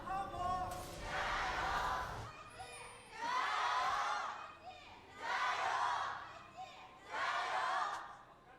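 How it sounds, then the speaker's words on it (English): Esports arena crowd at an LPL Spring 2024 League of Legends match between Top Esports and Invictus Gaming, cheering and chanting in four long swelling waves, distant and muffled. "Crowd still representing."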